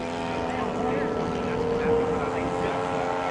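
P-47 fighter plane making a low pass with landing gear down, its radial engine giving a steady droning roar with strong tonal hum, swelling slightly near the middle, with a voice talking underneath.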